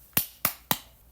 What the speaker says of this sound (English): she clapped her hands 3 times again